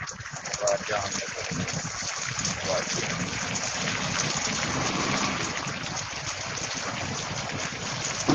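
Heavy rain pours over Farooka and the surrounding area, a dense, steady rush of falling water and flowing runoff close by. A voice talks over it throughout.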